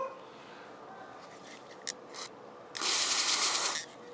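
Carburetor cleaner sprayed from an aerosol can onto a feeler gauge, used while replacing the points and condenser on a large single-cylinder Briggs and Stratton engine: a couple of brief hisses, then one steady, loud, close spray burst lasting about a second.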